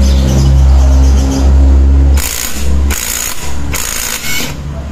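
An air-powered or electric impact tool works on the oil pump cover of a Yamaha Mio scooter, running in three loud, sharp bursts with a steady low motor hum between them.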